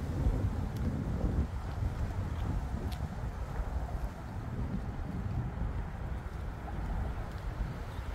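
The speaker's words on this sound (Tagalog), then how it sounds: "Malakas ang hangin." Steady strong wind roars and buffets against the microphone, a continuous low rumble with no speech, as if out on open water.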